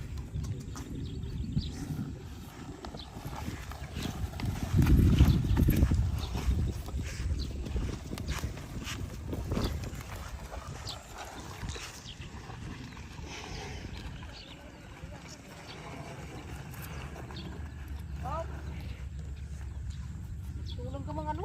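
A carabao walking on a vegetable farm, its hooves clopping in an irregular, moderately near rhythm against low rural background noise, with occasional faint voices.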